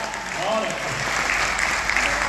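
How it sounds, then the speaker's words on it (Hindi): An audience at a Dainik Jagran literary event applauds for itself. Steady, close clapping runs through the whole stretch, with faint voices mixed in underneath. "एक बार आप लोग अपने लिए तालियां बजाएं"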